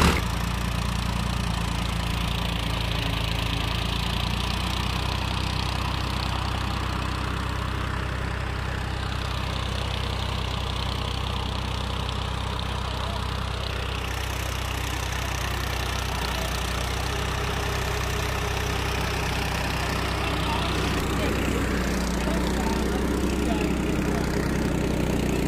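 A Swaraj 960 FE 60 hp tractor engine labours pulling an 11-tine cultivator in second high gear, a steady, heavy diesel drone held constant and loud throughout, with a voice talking over it.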